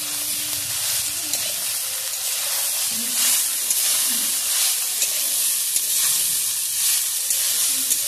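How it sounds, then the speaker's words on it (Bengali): Gima greens and potatoes sizzle steadily in a frying pan, a continuous bright hiss with occasional soft scrapes of stirring, close and fairly loud, no talking. "এবার ভালো করে নেড়ে নেব।"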